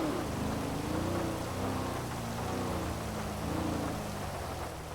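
Rain falls in a soft, continuous hiss at low level, with a voice humming or talking faintly underneath it throughout.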